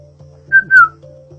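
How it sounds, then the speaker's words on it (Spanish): Mazatec whistled language, a single person's clear whistled phrase of two linked pitch glides, loud and close over a low steady hum, with no talking. "El mazateco chiflado nace a través de la necesidad de comunicarnos a grandes distancias."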